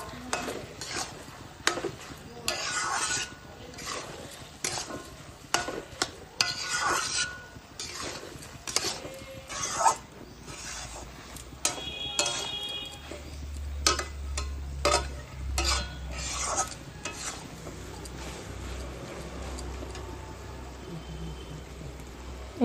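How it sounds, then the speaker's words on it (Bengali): Papaya and chana dal curry stirred in a pan, with repeated scraping and clinking of a spoon against metal over a soft background sizzle and a low rumble partway through. "আচ্ছা, এবার ভালো করে মিশিয়ে নেব।"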